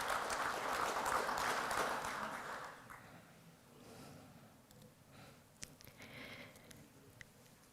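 A round of applause at an ILO Pacific launch event rises fairly quietly, holds for a few seconds, then fades into a hushed room with a few scattered faint claps and small noises.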